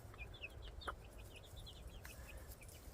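Chickens cluck softly in short, scattered chirping calls over a low background rumble, with one slightly louder call near the start.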